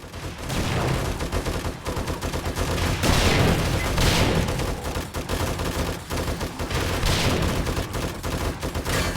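Turrets blast armour-piercing rounds in 7 Days to Die, a loud continuous barrage of rapid gunfire with heavier bursts swelling in and out across the whole stretch.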